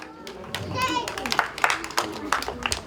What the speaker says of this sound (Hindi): जोरदार तालियां इनके लिए, जोरदार तालियां।